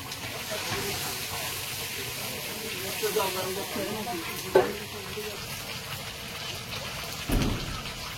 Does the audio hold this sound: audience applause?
no